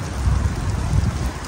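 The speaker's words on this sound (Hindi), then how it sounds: "बारिश आ गया" Steady heavy rainfall pattering densely on surfaces close by, a continuous loud hiss with no voices over it.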